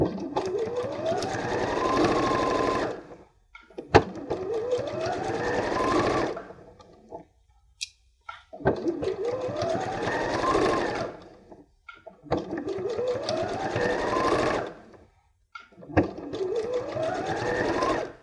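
A sewing machine stitches a fabric scissors case in repeated bursts of a few seconds each, its motor whirring up and down with short pauses between runs, close and clear.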